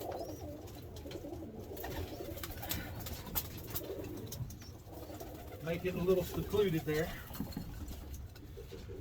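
Birmingham Roller pigeons coo softly in a loft, low throaty cooing rising in the middle, with light shuffling and wing patter while someone talks nearby.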